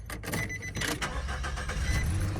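A 2019 Nissan Frontier engine cranks and catches, then settles into a steady idle, close and loud with no voices.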